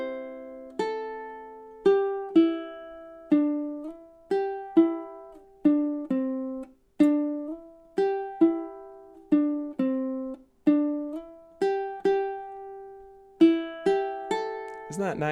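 A ukulele picks out the whistled melody from a song, measures 22 to 25, as a string of clear plucked single notes that ring and decay in a steady rhythm, played alone and up close.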